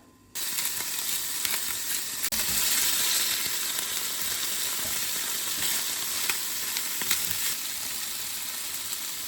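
Meat strings frying in a pan on the stove, a sudden onset of loud steady sizzling that stays close and continuous, with a few faint scrapes.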